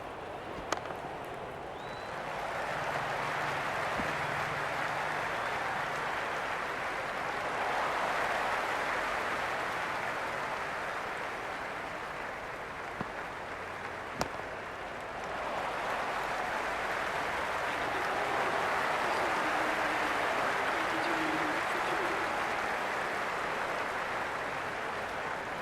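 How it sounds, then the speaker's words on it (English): Stadium crowd cheering at an India vs Pakistan cricket match: a sustained, dense roar that swells, dips briefly, then surges again, with a couple of sharp knocks. "It's evident and ever so audible that the crowd is at near bursting point at today's play."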